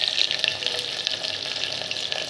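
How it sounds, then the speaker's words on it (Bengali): Chopped onions frying in hot oil in a cooking pot for polao, a steady close crackling sizzle with bright popping throughout, no talk. "এখন আমরা তেলের মধ্যে পেঁয়াজ কুচি দিলাম পরিমাণ মতো"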